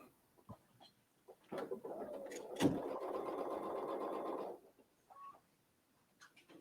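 A sewing machine stitches across a quilted case, running steadily for about three seconds with a rapid mechanical whir, preceded and followed by quiet handling clicks.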